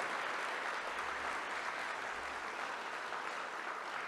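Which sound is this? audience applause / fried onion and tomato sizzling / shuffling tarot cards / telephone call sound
audience applause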